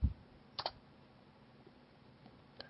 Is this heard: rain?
no